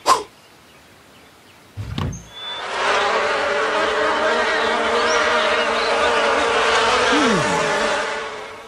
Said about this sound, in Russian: укуси меня, пчела!